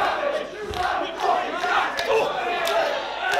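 A wrestling crowd at a live main event chants and shouts in rhythmic, swelling waves, a dense mass of voices that rises and falls every second or so.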